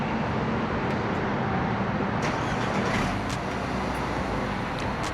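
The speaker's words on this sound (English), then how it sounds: "We're going to do a quick little cold start." A 2023 Nissan Qashqai with a 2-liter inline-4 and CVT turns over from a cold start and settles into a steady, quiet idle hum, heard up close with no talking.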